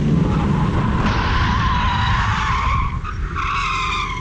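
A race car's tires skid loudly as it spins out on a racing school track, a sustained harsh squeal that holds steady and wavers near the end, close and alone.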